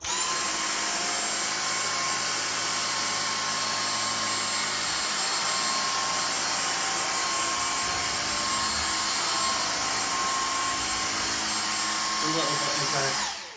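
A Dyson DC59 cordless handheld vacuum cleaner runs steadily in normal mode with a high, whiny motor hum and a constant airy roar throughout.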